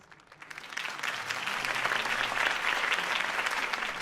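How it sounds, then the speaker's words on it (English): Applause from a crowd at a political campaign speech in a video game swells up after a quiet start and continues as steady, dense clapping, loud and sustained throughout. "If only Mr. Wayne, my campaign's largest backer, could have heard that applause"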